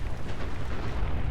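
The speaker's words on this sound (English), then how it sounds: "Explosion" In Fallout 4, a loud explosion rumbles with a dense, sustained booming roar of heavy low-end blast noise that fills the whole short moment.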